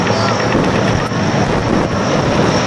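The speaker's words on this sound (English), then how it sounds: "Versatile asset provides in-flight refueling to tactical aircraft and helicopters" A military in-flight refueling aircraft flies past at an air show, its engines making a loud, constant roar that fills the whole stretch, with a voice faintly under the noise.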